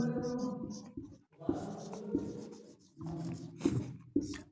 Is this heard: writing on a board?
yes